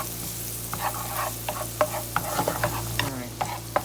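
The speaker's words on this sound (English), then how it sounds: "Now I've added some the chopped onion. Okay, so we're gonna saute this off a little bit." Chopped onion sautéing in a pan for a meatball sub sauce, with a steady sizzle and frying hiss broken by the scrape and tap of stirring, close and without talk.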